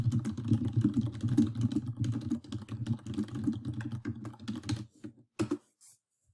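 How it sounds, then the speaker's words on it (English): Rapid, steady typing on a computer keyboard close by, a dense run of clicks that slows and stops after about five seconds, with no talking. "I'm going to type that into search"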